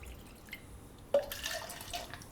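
Water is poured into mango pudla batter in a home kitchen: after a quiet stretch, a sudden splash gives way to a soft, steady trickle, close and faint.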